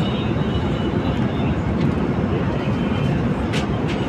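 Steady engine roar inside an airliner cabin at Jiddah airport as the plane moves, a loud broadband drone throughout with a few faint clicks and rustles.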